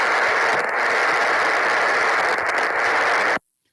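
Lightning static received on an HF ham radio transceiver, a loud continuous hiss of crackling noise with a few brief bursts, cutting off abruptly at the end.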